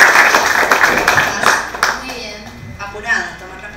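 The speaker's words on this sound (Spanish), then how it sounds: "Fuerte el aplauso para Génesis." A school contest crowd in Guna Yala, Panama claps for a student contestant, a burst of applause that fades over a few seconds while a voice talks over it.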